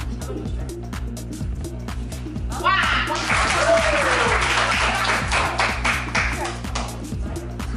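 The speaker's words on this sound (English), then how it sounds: "Clap is what she did." A crowd breaks into lively applause at a dance event, many hands clapping steadily and swelling louder midway, with people talking and cheering over it.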